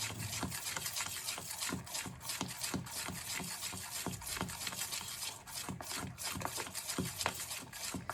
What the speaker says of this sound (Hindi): तो हम इस तरह से इसको फेंटते रहेंगे।